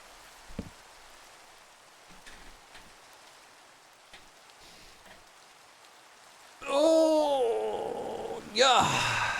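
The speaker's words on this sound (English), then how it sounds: "Oh, the rain does not make me happy." Soft, steady rain in a video game hisses in the background, then a voice lets out a loud drawn-out groan near the end.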